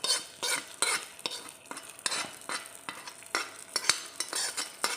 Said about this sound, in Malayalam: നമ്മുടെ ഉള്ളി കടുക് വറുത്തെല്ലാം കൂടെ നമുക്ക് ഇതിനകത്തേക്ക് ഇട്ടു കൊടുക്കാം